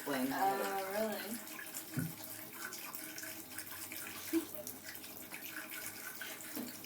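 Water runs steadily from a faucet where Chester drinks, a continuous soft splashing stream through the whole stretch, with a couple of brief knocks and quiet voices talking nearby.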